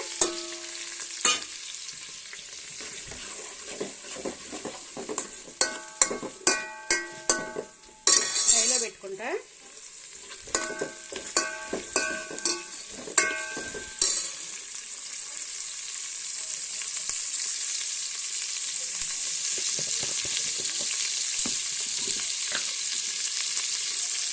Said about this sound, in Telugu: బాండి పెట్టి ఆయిల్ వేసాను ఇక ఆయిల్ వేడైంది ఇక ఆనియన్స్ అయితే వేసుకుంటున్నా